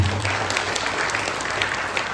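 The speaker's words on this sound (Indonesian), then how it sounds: "Tepuk tangan untuk kita semua" An audience at an indoor training event claps steadily for about two seconds, a dense, even patter of many hands without cheering.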